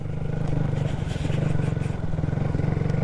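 Small 125cc motorcycle riding on a cold road to scrub in new tyres, a steady pulsing engine drone close up with wind rush, holding an even pace throughout.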